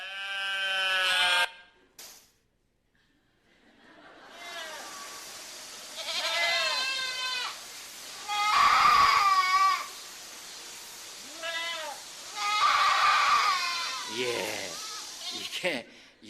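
A goat gives a series of harsh, quavering bleats in separate bursts, moderately loud and close, with short quiet gaps and a faint background hum between them.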